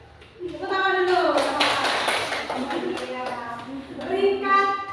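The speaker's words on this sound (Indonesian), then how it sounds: "Tepuk tangan dulu." Students in a classroom give a brief, lively round of hand clapping, a steady patter of claps mixed with children's voices and an adult speaking over it.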